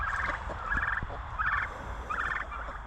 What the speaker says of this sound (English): There are some turkeys in there which aren't going to be getting butchered today.